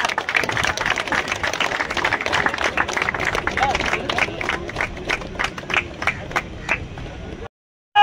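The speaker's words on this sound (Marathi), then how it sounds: "जोरदार टाळ्या होऊन जाऊ द्या" A crowd at a cricket event claps hard and steadily for several seconds, a dense wash of hand claps with voices mixed in, ending abruptly.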